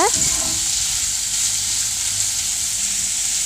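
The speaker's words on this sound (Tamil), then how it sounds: "அதில் 2 வெங்காயம் ஆட் பண்ணிக்கோங்க. இப்போ நல்லா அதை வதக்கிக்கோங்க." Sliced onions with fennel seeds sauté in hot oil in a pan, giving a steady close sizzling hiss that holds evenly throughout, with no talking over it.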